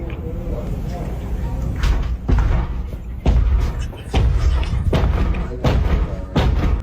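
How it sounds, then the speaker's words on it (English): A house door is banged on repeatedly with heavy, booming thuds in uneven bursts, loud and close, with voices talking underneath. "the dude that was banging on the door"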